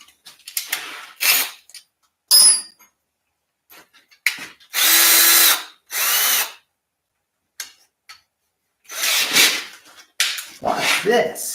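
A power drill bores holes for a plug weld while working on steering components, heard as several short, loud bursts of whining drilling separated by pauses, with occasional clanks and handling noises in between.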